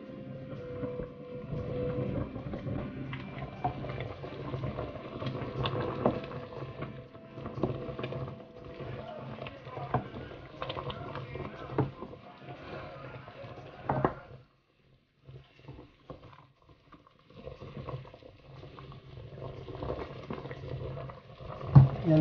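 A pot of kare-kare broth boils with a busy bubbling patter that stops briefly partway through and then resumes. Kitchen clatter is mixed in, and the sound is moderately close.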